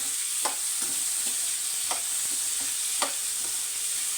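Carrot pieces frying in oil, a bright steady sizzle broken by periodic scraping strokes of a spatula, close and loud.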